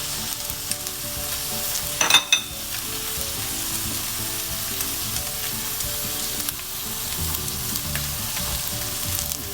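Chicken sisig sizzling hard in a hot pan with green and red chilies tossed in, a loud continuous frying hiss with a brief clatter of stirring near the start.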